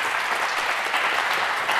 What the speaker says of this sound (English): may I start with a huge applause for these three specialists